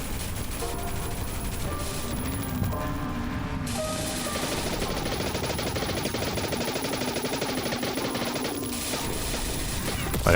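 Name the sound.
machine gun firing in a video game (Beyond Citadel)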